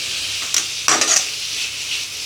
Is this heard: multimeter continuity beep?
no